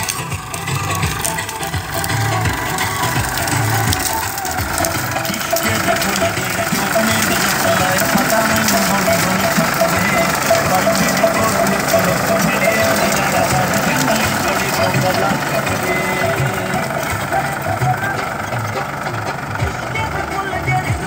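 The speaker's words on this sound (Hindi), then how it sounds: "ट्रैक्टर 45 हॉर्स पावर का है," A 45-horsepower tractor driving a PTO-shaft rotavator in a field, running at slow speed with a steady, loud mechanical drone and rattle, while someone talks over it.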